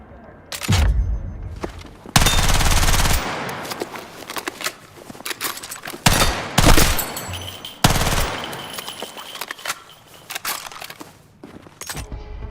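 Rapid full-auto bursts from the SL9 rifle in Battlefield 6 tear out in several loud, close volleys, the longest stretching about a second, with shorter rattling strings and quieter in-game clatter between them.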